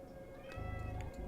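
A cat meows softly and briefly in The Seance of Blake Manor detective game, one short faint call standing alone over a low steady background hum.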